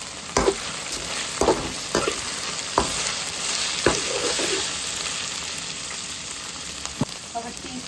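Okra pieces frying with salt and turmeric in an uncovered pan, a constant sizzle broken by sharp, regular knocks and scrapes of the stirring spoon, close and fairly loud.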